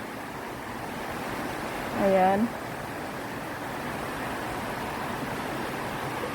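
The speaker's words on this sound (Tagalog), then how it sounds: "Yung sounds ng ang maririnig. Sounds ng ilog." Steady broadband rush of a flowing river runs throughout, with a brief voice rising over it near the middle.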